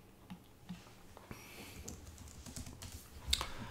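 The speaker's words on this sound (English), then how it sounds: "It's asking for a password for Sam" A password is typed on a computer keyboard while adding a user in Linux Mint 21.3 Xfce: quiet, irregular key clicks in short bursts, close and soft, with no talk.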